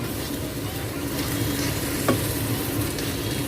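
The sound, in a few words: stirring fried kway teow noodles in a wok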